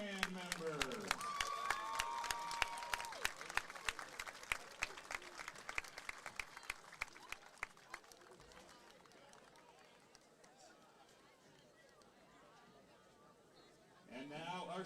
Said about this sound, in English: how about a big round of applause for our senior marching band members